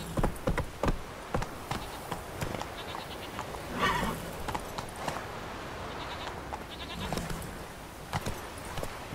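Geralt's horse Roach galloping in The Witcher 3, rhythmic hoofbeats mixed with neighs and whinnies, fairly quiet, with scattered sharp impacts and a bleating animal sound partway through.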